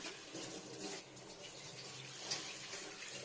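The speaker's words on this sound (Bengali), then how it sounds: "এবার দিয়ে নেবো ফিল্টার করে জল যতটা লাগবে" Filtered tap water pours steadily into a cooking pot for a Bengali katla fish curry, a continuous broadband splashing stream heard close up with no talk.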